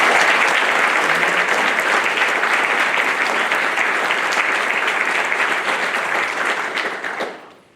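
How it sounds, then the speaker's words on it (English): Warm, loud applause from a large audience at a Navy Nuclear Field A School graduation ceremony, steady dense clapping that holds for several seconds and then fades out. "please join me in a warm round of applause"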